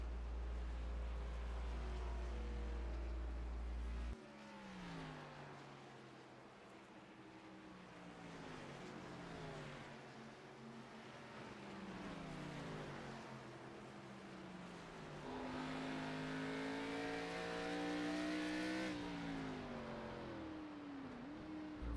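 Race car engines in a sim racing game at Sonoma Raceway, a loud engine revving up and down through gears in sweeping pitch climbs and drops, steady and close throughout.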